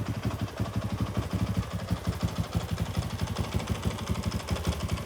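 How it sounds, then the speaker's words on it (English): A 2008 Honda ATC450X trike converted by BVC, fitted with a Lexx exhaust, idles steadily with a rapid, even thumping pulse, close and continuous with no talking. "The Lexx exhaust is not the most glamorous exhaust for these bikes, but I will tell you it sounds great"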